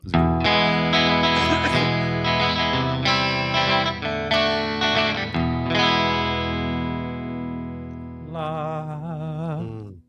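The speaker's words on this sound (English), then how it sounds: "I'm very excited for this sound drop." A relaxing podcast sound-drop jingle plays alone: sustained, chorus-heavy electronic chords with a distorted, effected shimmer, shifting through several changes before ending in a wavering, warbling tail that cuts off.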